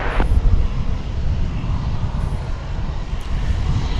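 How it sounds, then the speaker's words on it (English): A Sun Country passenger jet taking off from DFW Airport, a steady, loud engine roar with deep rumble and faint wind buffeting on the microphone, held throughout with no talk. "There goes Sun Country Flight 503. It's going to be jetting its way to sunny Cancun, Mexico."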